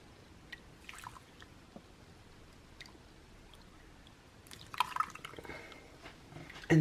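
Milk being poured into keto overnight oats, a soft, faint trickle of liquid with a few brief wet splashes over a quiet background.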